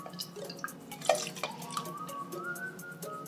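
Orange juice poured into water in a kitchen makes quiet, irregular dripping and trickling splashes, soft and close, with no talking.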